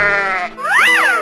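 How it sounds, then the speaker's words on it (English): A cartoonish sheep from a 3D animal video game gives one loud, wavering bleat, rising and falling in pitch near the end, standing alone after a short tonal game sound. "sheep"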